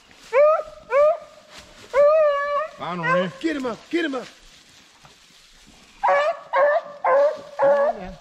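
Beagles bay and yelp in repeated bursts while running a rabbit on a North Carolina hunt, close and loud, with a man calling out between the barks.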